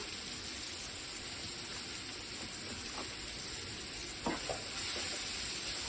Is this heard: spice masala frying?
yes